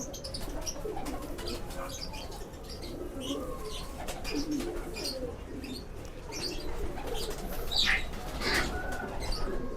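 A pair of Ferozpuri pigeons coo softly and repeatedly near the listener, with a few wing flutters and chirps over a quiet background.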